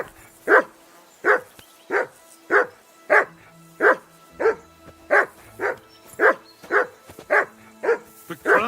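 A dog in the video game Kingdom Come Deliverance 2 barks repeatedly in a steady rhythm, about one to two barks per second, sharp and fairly close.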